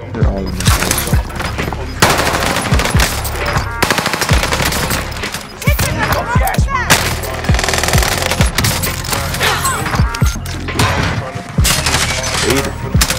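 Rapid bursts of machine gun fire in the Call of Duty Warzone video game, loud and sustained with dense overlapping shots and thuds, while players shout over the fighting.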